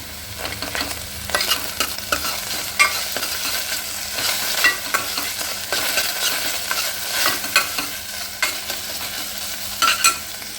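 Chopped onions and tomatoes with ginger-garlic paste frying in a pan for ragda, stirred continuously: a steady sizzle under repeated scraping strokes and occasional sharper clicks of the spoon against the pan, close and fairly loud.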